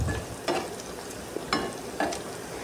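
Dried chillies, garlic and onion fry quietly in a pan, a soft low sizzle punctuated by a few sharp stirring scrapes about every half second to second.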